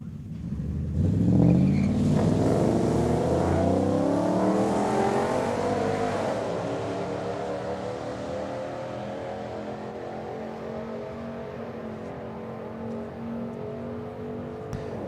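Drag race cars at Saskatchewan International Raceway in Saskatoon rev hard and accelerate off the starting line, a loud, sustained engine roar climbing in pitch through the gears, then easing on and off the throttle toward the top end.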